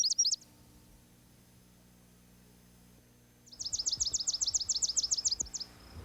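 Swamp sparrow song in a northern marsh: a brief trilled burst, then after a quiet gap a longer, loud, evenly spaced rapid trill of sweet notes, close and alone with no talking.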